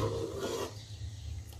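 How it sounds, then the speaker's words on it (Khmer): Aloe drink being stirred in a pot of boiling water, with a short scraping rasp of the spoon against the pot that fades into a low bubbling simmer. "៎យើងកូរវាបន្តិចណា"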